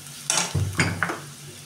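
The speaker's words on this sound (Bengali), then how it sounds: "পেঁয়াজটা আমাদের হালকা ভাজা হয়ে গেছে। এবার মধ্যে আমি রসুনটা দিয়ে দেবো।" Garlic and onion fry together in a pan with a close, lively sizzle, broken by a few scraping stirs of a utensil against the metal.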